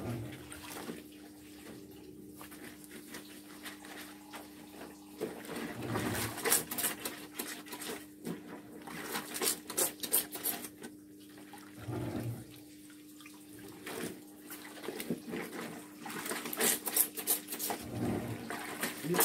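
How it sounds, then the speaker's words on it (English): Running water from a tap or tub while white laundry is washed by hand, a quiet, continuous splashing wash with occasional louder surges and background bird calls. "washing, sorting out my white wash laundry"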